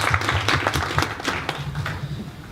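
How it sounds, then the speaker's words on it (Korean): An audience at a design talk claps briefly, with a few sharp hand claps in front and a voice murmuring beneath; the clapping thins and fades after a couple of seconds. "박수 한번 더"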